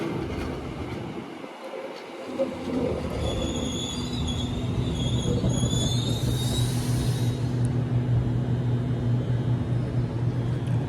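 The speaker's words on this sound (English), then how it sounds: "The next train does not stop at this platform." A train runs through Harris Park station on a rainy day without stopping, its steady loud rumble and wheel noise filling the platform, with a thin high squeal rising from the rails midway before easing off.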